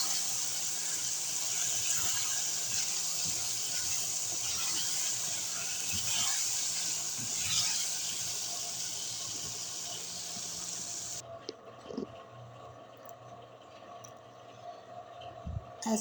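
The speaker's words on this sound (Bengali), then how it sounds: "মুরগির যে কলিজা, সেগুলো আমি ভালো করে ধুয়ে নিচ্ছি" Chicken livers rinsed with lemon in a bowl of running water, a continuous hissing gush with faint splashes throughout; partway through the flow thins out, leaving quieter dribbles and occasional clinks.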